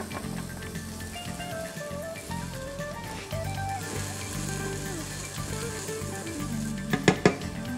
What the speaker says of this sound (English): I'm going to brown onions and garlic for 1 to 2 minutes